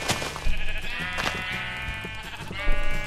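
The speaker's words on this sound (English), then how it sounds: "Okay, we're gonna kill all these sheep." Sheep in the Minecraft video game bleat in several short, loud, wavering calls that overlap one another, with clicking game sounds between them.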